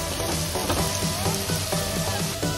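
Onions frying in a pan while being stirred, a steady close sizzle with soft, rhythmic scraping of a spoon.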